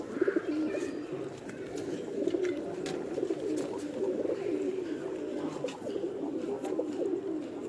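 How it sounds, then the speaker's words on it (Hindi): Several Diwan Sahib breed pigeons coo continuously at close range, a layered low burbling chorus with overlapping calls throughout, faint chirps and a little background murmur mixed in. "इस वक्त जो कबूतर हैं ये ब्रीड है दीवान साहब वाले कबूतरों की"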